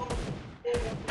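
Gunfire in the Free Fire mobile battle game, a burst of loud close shots at the start and another after a brief lull, blended with game effects.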